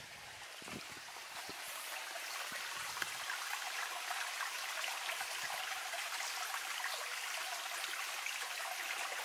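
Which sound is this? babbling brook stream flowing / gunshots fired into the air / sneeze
babbling brook stream flowing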